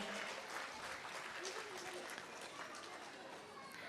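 An audience claps for young children at a school cultural fest, a broad crowd clapping that fades slightly toward the end, with some chatter mixed in.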